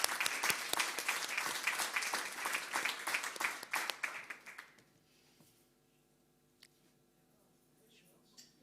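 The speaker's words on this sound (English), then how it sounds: "Give you a clap." A crowd at an awards ceremony claps and applauds steadily for several seconds, then the applause fades into a quiet room with a few faint noises.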